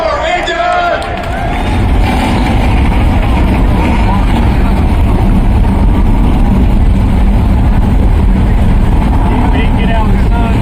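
NASCAR race car engines fire up at North Wilkesboro Speedway during the 2023 All-Star Race reunion weekend, a loud, dense, continuous roar that builds in the first seconds and holds steady, mixed with crowd hubbub.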